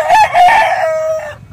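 Chickens on a Philippine poultry farm with turkeys kept nearby, a rooster giving one loud, close crow that rises, holds and then fades, with other birds clucking faintly beneath it.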